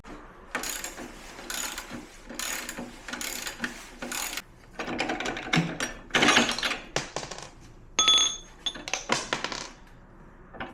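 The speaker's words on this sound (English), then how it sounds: "Nervous about it tipping over, so I got some ratchet straps." Ratchet straps are cranked tight around a milk crate during a flat tire repair, giving bursts of clicking ratchet pawl and metallic mechanism rattles in uneven groups, close and fairly loud, with no speech.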